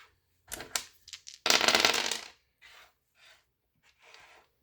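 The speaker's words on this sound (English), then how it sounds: "I can risk it and roll the remaining 5 dice" Five dice rolled in a game of Zilch clatter in a short burst of knocks, then a louder rattling tumble of about a second, followed by several small separate clicks as they settle, close up with no talk.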